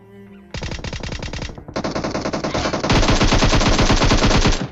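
Automatic gunfire from an enemy attack in PUBG Mobile rattles in loud, rapid bursts, first one weapon and then heavier overlapping volleys that grow denser toward the end, with no talk.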